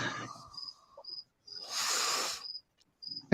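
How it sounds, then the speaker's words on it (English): A cricket chirping indoors in a room, giving several short, high, repeated bursts with gaps, mixed with a broadband hiss in the middle and low rumbles, fairly faint. "No, it is a loud ass cricket."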